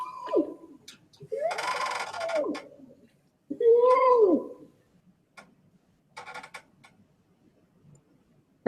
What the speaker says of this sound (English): That last sound you heard was an orangutan.